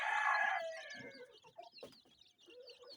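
A Kienyeji hen on a poultry farm clucks loudly at first, then softer scattered clucks and high chick peeps follow in a busy coop.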